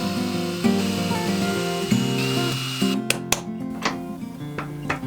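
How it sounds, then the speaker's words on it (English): A power drill bores holes in scrap wood during a woodturning project, with a steady whining motor tone and shifting pitch, followed by a few sharp clicks and knocks as the drilling stops. "I can drill in a few holes to mount it again"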